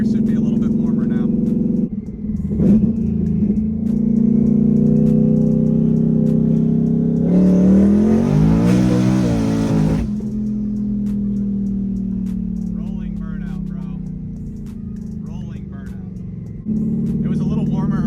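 A 1000hp drag car on a street rumbles loudly at idle, then surges through a brief hard launch with a rising roar before dropping back to a steady engine drone.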